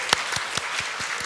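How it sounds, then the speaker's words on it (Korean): Applause from an event audience greeting the mayor of Yongin at a special talk event, a brief burst of crowd clapping with sharp individual claps standing out. "여러분 힘찬 박수로 맞아주십시오"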